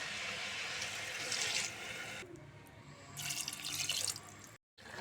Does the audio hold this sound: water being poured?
yes